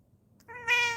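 A house cat gives a clear, fairly close meow that rises in pitch and holds briefly before trailing off, heard alone with no talking over it.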